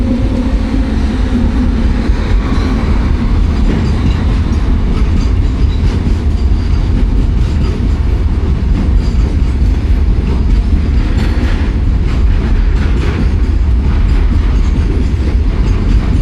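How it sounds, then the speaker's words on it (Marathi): A goods train carrying loaded trucks passes close by a stopped express on the Konkan Railway at Khed in the early morning rain, giving a loud continuous rumble with clattering wheels throughout. "आय थिंक मालगाडी आहे."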